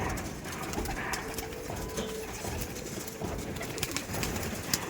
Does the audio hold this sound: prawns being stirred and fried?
no